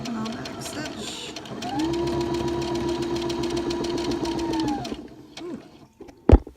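Sewing machine back stitching the hem of a rag rug, running in a steady whir for a few seconds and then stopping, with a short bump or thud near the end.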